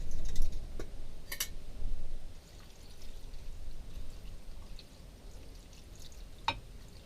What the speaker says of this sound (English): Then we're also going to pour the water in.